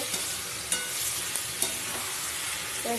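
Vegetables sizzle steadily in a hot pan with occasional scraping stirs, a dense, close frying hiss with no voices.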